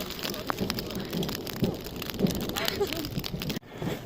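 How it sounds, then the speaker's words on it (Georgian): A thunderstorm near Black Rock Lake: steady, dense rain hiss fills the whole stretch with low rumbling underneath, loud and close, then cuts briefly before resuming. "აუ ისეთი ჭექაქოხილია და მეხები ეცემა აქეთ-იქით"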